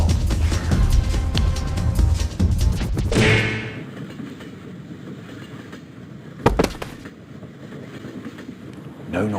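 A train carrying a rider toward the seaside rolls along the rails, starting with a loud, dense rumble that drops to a quieter, steady rolling noise broken by one brief clattering jolt midway.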